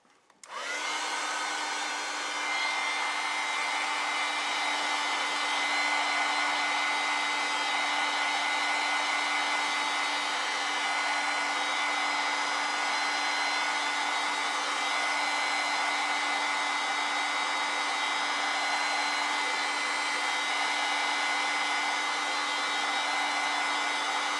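A hair dryer blows steadily on a watercolor-and-ink apple painting, a loud, constant whirring drone that runs unbroken from start to finish with no talking.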